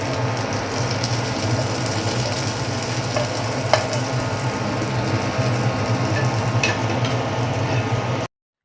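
Mustard seeds sizzle steadily in hot oil, a dense continuous crackle sprinkled with small sharp pops.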